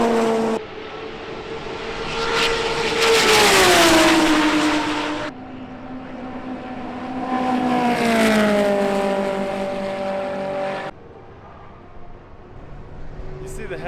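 Race cars on the super lap at Fuji Speedway, in fog along the long straight, sweep past one after another with rising, falling engine notes, loud as they near and fading away, while a voice talks over them.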